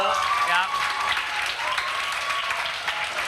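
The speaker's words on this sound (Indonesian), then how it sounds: "untuk our leader Santana sama Alen, tepuk tangan dulu ya." A congregation at a youth Christmas church service applauds in a steady, sustained burst of clapping that fills the whole moment, with a few voices mixed in.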